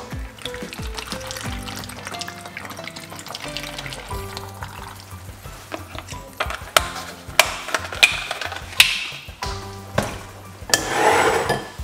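Coconut water poured for homemade beet juice, a bubbling, gurgling stream into a container with intermittent clunks and knocks of kitchenware, louder toward the end, with background music and no talk.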